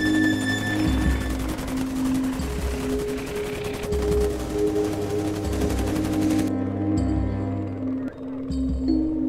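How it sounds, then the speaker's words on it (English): Gunfire in a forest, loud rapid bursts of shots dominating a steady low rumble, continuing throughout without speech. "Somebody's shooting at us."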